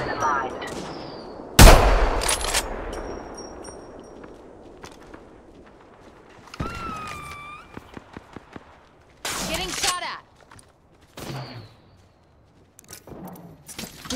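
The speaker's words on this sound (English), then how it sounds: "Getting shot at!" Gunfire in the video game Apex Legends: a loud sharp burst of shots early on, then scattered bursts and single cracks at varying distances, with game voice lines and effects in between.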